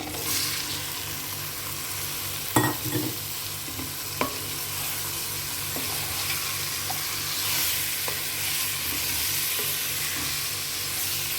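Broad bean pieces frying in a pan with a loud, continuous dense sizzle, interrupted by a couple of brief scrapes or knocks of a spatula.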